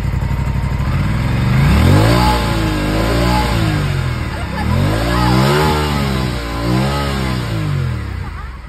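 An Aprilia scooter engine starts and revs loudly up and down in two strong surges, its pitch rising and falling close by with a rattly idle between, while voices talk in the background.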